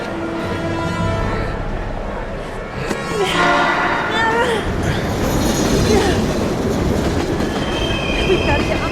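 A train in the video game Heavy Rain rushes past with rumbling wheels, clattering and metallic squeals, loud and close, building into a dense roar over several seconds.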